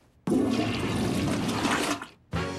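A newly installed toilet flushes loudly and alone, a strong rush of water that runs for nearly two seconds, briefly dips, then surges again.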